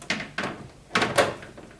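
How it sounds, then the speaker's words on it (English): The door of a Beko vented tumble dryer is refitted, giving a few close, sharp plastic knocks and thunks in two quick pairs, separated by a short pause. "just need to put the door back on"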